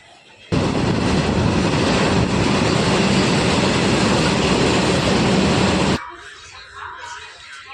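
A train at Aluva railway station in Kerala roars past close by in a loud, steady rush lasting about five and a half seconds, then cuts off abruptly to quieter platform ambience.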